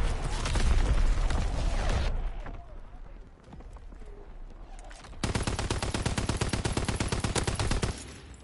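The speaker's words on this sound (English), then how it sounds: "Firing primary battery." Heavy naval primary battery guns boom in a WWII naval combat video game, opening with a loud dense burst of blasts, then quieter rumbling, then a long rapid run of sharp repeated shots, with voices talking over it.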